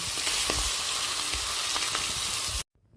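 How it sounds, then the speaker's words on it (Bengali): Katla fish heads fry in hot oil in a pan, producing a dense, loud sizzle with soft thumps as they shift, close by and continuous until it cuts off abruptly. "মাছগুলো বেশ ভালো করে উল্টে পাল্টে লালচে করে ভেজে নেব।"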